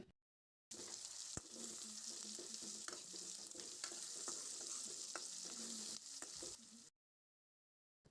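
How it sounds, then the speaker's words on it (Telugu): Salt stirred into tomato rasam sizzling in a pot, a steady frying hiss with scattered scraping stir sounds, close and moderately loud, starting and stopping abruptly with silence at both ends. "ఇప్పుడు ఇందులో సరిపడా ఉప్పు వేసుకొని కలుపుకోవాలి"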